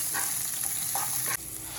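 Eight chopped small shallots are stirred in a pan as they fry to golden brown. A continuous near sizzle runs throughout, broken by short scraping stirs, with one sharp knock near the end.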